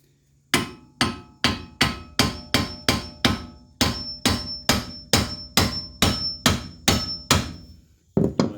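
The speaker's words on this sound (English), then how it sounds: "get your finest rusty claw hammer that has been chewed" A rusty claw hammer pounds a ball joint in a steady run of about eighteen loud, sharp metallic strikes, each ringing briefly before the next, close up with no talking.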